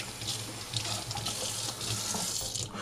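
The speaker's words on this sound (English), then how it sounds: "So I have my trusty hydrometer, which I have to rinse off" Tap water runs steadily into a sink as a hydrometer is rinsed under it, a soft, even, continuous splashing hiss heard alone at fairly low volume.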